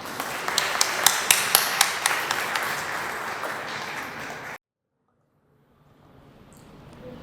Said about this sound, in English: Please give a warm round of applause for our author